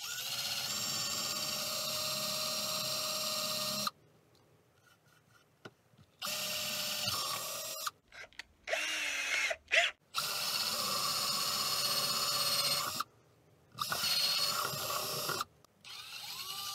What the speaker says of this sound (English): I don't have any hole saws, but I have a step bit here.